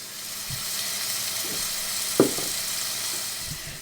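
Beans simmering in a pot for baked beans give a steady background hiss of escaping steam, with a few soft bubbling pops and one sharper burst near the middle.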